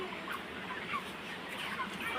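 Chickens on a poultry farm cluck faintly in a busy ambient mix, with a few short calls over a steady background murmur.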